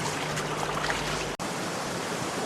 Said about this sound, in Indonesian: Nah ini sungainya guys, nah bisa dilihat guys